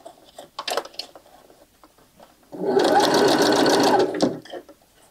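A domestic sewing machine stitches the seam of a Gatsby cap, running steadily for about a second and a half at close range, with quiet handling sounds and a few soft voice fragments before and after.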